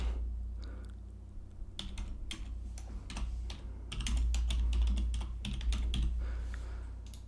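Computer keyboard typing with occasional mouse clicks while building a material in Unreal Engine, a steady scatter of close, crisp keystrokes over a low background hum, busier in the second half.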